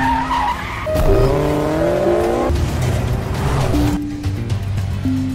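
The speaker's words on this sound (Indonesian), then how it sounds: "Supri berusaha membalap mobil Yunju, tapi dia malah nyaris tertabrak oleh truk" Cars race through a forest in a film chase scene, with loud skidding tires, screeching squeals and revving engines sweeping up and down, dense and continuous, without speech.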